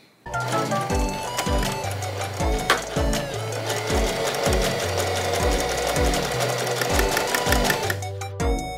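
A sewing machine stitches the lining of a crochet bag, a loud, continuous mechanical whirring with rapid rhythmic needle thumps running almost nonstop, up close, ending with a few clicks.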